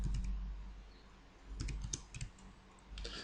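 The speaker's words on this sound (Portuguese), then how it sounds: "Aqui tem que digitar, aqui não tem como." Numbers being typed on a computer keyboard into an Excel spreadsheet, a few quick, faint key clicks in short bursts against a quiet background.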